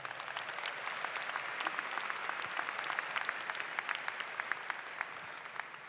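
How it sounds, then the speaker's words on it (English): An audience at a university baccalaureate commencement ceremony applauds in a steady, dense round of clapping that holds for several seconds, with scattered sharper claps standing out and no talking. "Let's give Dr. Bustler another round of applause."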